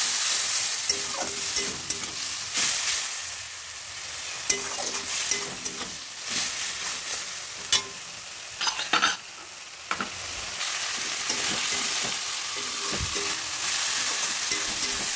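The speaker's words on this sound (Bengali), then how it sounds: "এটাকে একটু নেড়ে চেড়ে সামান্য জল দিয়েও কষিয়ে নিলাম।" Chickpeas and peas for ghugni masala fry and get stirred in a pan with a splash of water, a loud, continuous sizzle broken by repeated scraping and clanking of the spoon against the pot.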